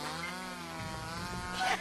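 A chainsaw from the horror game Mad Father drones steadily with a buzzing, harmonic engine tone, rising and roughening toward the end of the short burst.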